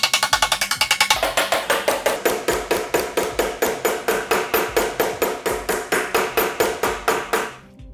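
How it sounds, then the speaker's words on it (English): Low crown hammer striking a sheet metal flange tight against a buck while forming a roadster body panel, a fast even series of sharp ringing blows, very rapid at first then settling into a steady rhythm, close and loud before stopping abruptly. "I've used a low crown hammer to smooth the flange out by hammering it tight against the buck"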